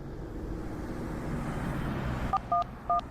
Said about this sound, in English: Entering number on one phone and calling.